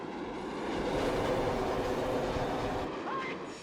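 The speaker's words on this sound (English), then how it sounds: "as the train comes on" A subway train arrives in a station in The French Connection, its rumble and clatter swelling to a loud peak, then easing off, with a faint wheel squeal near the end.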